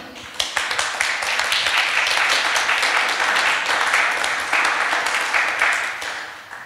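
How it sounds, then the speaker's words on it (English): Conference audience at re:publica 2015 clapping after a panel contribution on internet governance, a dense burst of applause that swells quickly, holds steady for several seconds, then tapers off. "Since you received so many claps."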